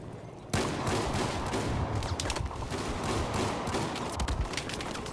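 Dense video-game gunfire bursts in abruptly after a short pause, a rapid, sustained volley of overlapping shots that stays loud and close for several seconds.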